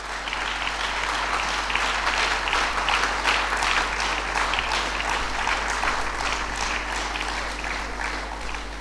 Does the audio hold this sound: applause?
yes